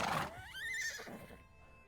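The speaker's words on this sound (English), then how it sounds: "Back the horse out of the stable." A horse in the medieval survival game Medieval Dynasty lets out a single clear, rising-and-falling whinny, close and fairly loud, over faint background clatter.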